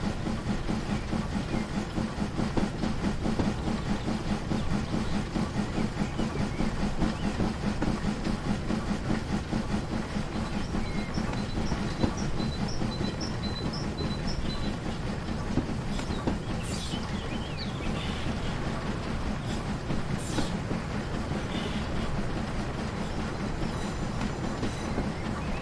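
Simulated train coasting into Groombridge station on the Spa Valley Railway in Train Simulator, a steady rumbling roll with faint rail clatter and brief high squeals near the end, no voices.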